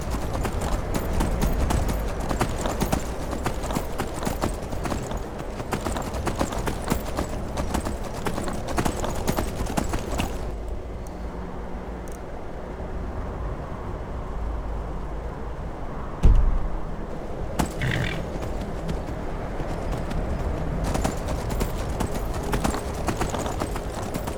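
Horse hooves clip-clop in the video game Skyrim, a steady rhythmic trotting gait close by that fills the whole stretch, pausing briefly midway and marked by one sharp thump before the hoofbeats resume.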